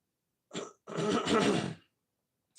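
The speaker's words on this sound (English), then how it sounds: "it hurts to try to clear my throat." A person clears their throat twice, a brief rasp followed by a longer, rougher one, close to the microphone in otherwise quiet surroundings.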